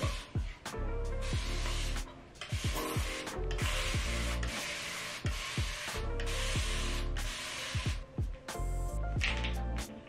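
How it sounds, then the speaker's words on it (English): Several short hissing bursts from a pump bottle of Main Choice restorative hair spray, each followed by soft clicks and handling noise, close and quiet with no talk. "I'm gonna use this Main Choice Restorative Spray. I'm gonna start with that."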